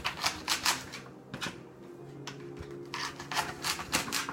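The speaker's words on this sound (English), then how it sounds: "And then we're going to cut this end off of the celery." A knife cuts the end off a bunch of celery, giving a series of crisp, close chopping taps in quick irregular bursts with short pauses, no talk.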